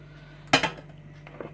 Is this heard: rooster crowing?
no